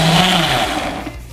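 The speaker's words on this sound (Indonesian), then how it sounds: "Nah ini kita blender lagi nih teman-teman." A blender whirs loudly while mixing fishing bait, a dense continuous motor drone that winds down over about a second.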